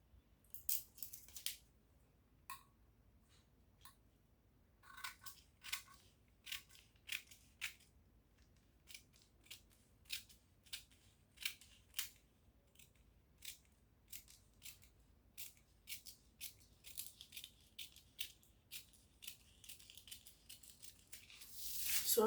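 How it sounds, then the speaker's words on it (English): Scissors snip through ankara fabric in a steady run of sharp, close cuts, each crisp blade closure separated by short pauses, with the pace quickening toward the end and no voice present. "the next thing I'm going to do is just to go ahead and cut this off"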